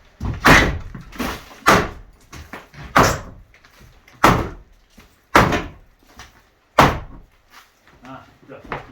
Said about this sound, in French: la porte qui bloque